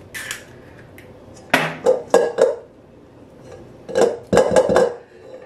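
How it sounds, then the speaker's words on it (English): Egg tapped and cracked against a big mixer bowl, a few sharp clinks and knocks in two clusters with quiet pauses between, close and clear. "So I'm breaking in my egg."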